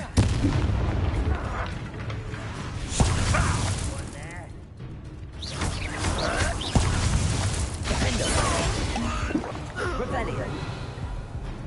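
Blasts of the Confringo fire spell in a Harry Potter video game, heavy booming explosions one after another amid battle noise and shouted incantations from characters talking throughout.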